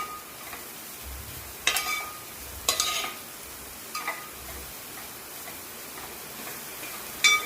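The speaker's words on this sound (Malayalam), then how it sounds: "ചീരത്തണ്ട് ഇട്ടതിന് ശേഷം നന്നായി ഇളക്കി ഈ ചീരയുടെ തണ്ടും ഈ അരപ്പും ഒക്കെ കൂടെ ഒന്ന് യോജിപ്പിക്കണം" Amaranth stalks stirred with spice paste in a pan give a few sharp scraping clicks at irregular intervals over a quiet, faint sizzle, close and sparse.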